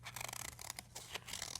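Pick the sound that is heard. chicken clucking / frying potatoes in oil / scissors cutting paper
scissors cutting paper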